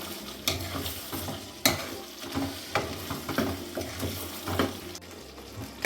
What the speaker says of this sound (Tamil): இந்த டைமில் நான் வந்து கத்திரிக்காவை நச்சு விட்டுக்கிற போகிறேன்.